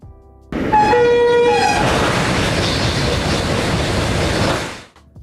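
A TGV high-speed train on the Côte d'Azur line sounds a two-tone horn as it approaches, then roars past close by with a loud, steady rush of wheels and air before cutting off abruptly.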